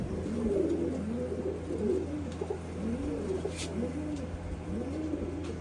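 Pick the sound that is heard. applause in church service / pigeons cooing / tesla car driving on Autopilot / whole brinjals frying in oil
pigeons cooing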